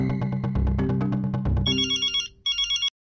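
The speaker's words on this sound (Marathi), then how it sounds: "एक काम करूया, मेहता अंकलला फोन करूया" A mobile phone ringtone plays loud and close, a melodic ring repeating in steady bursts that cuts off near the end, with no talk over it.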